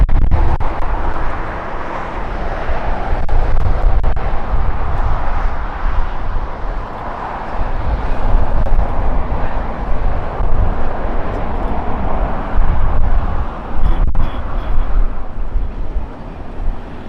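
An American Airlines airliner at Los Angeles International Airport gives a continuous broad roar that swells and eases, loud and steady throughout with no talk.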